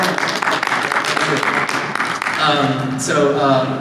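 Audience clapping at a SIGGRAPH 2024 Village practitioners panel session, a dense steady patter of many hands filling the room for a few seconds, with voices talking over it and a clear spoken voice toward the end.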